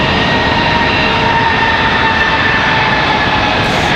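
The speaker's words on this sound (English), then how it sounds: "So that A321 there in your shot, American Airlines 2870 off to Fort Lauderdale. That is the one rolling out on the runway right now." An American Airlines A321 jet rolls along the runway at Charlotte Douglas, its engines giving a loud, steady, broadband roar with faint tonal whine running through the whole stretch, no voices.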